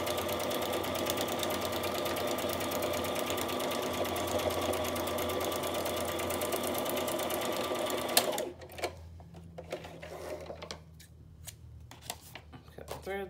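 A sewing machine stitches around a paper envelope for a journal, running in a fast, steady, close-up whir for about eight seconds before stopping, followed by soft handling noises.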